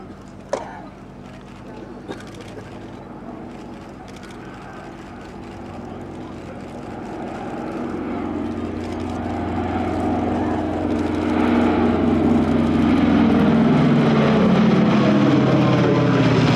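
A Lockheed Super Constellation with Wright Cyclone radial engines drones at a 2014 flying legends air show in Norway, its propeller roar swelling louder from a distance while a commentator talks over it.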